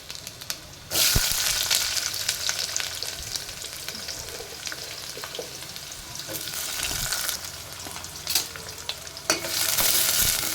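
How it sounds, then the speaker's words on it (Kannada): Chopped onion and crushed garlic fry in hot oil for a Kannada methi-palak greens palya, a steady loud sizzle with scraping stirs and a brief burst near the start, no talking. "ಈಗ ಎಣ್ಣೆಯಲ್ಲಿ ಸ್ವಲ್ಪ ಫ್ರೈ ಆಗಲಿ ಉಳ್ಳಾಗಡ್ಡೆ."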